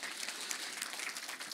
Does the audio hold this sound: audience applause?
yes